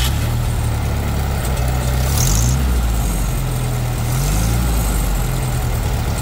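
A pump engine idles at a water well being hydro-fraced, a steady, loud low rumble that holds throughout with a slight pitch shift midway, and no voices are heard.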